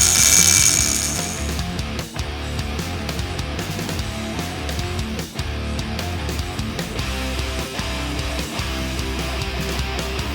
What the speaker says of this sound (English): now I'm going to go ahead and carve out this portion with the burr